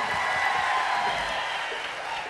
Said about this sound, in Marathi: जोरदार सगळ्यांनी टाळ्या वाजूया